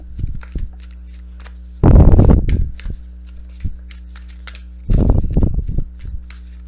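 A deck of oracle cards is shuffled close up in two distinct riffling bursts a few seconds apart, with a few soft taps and handling sounds between them.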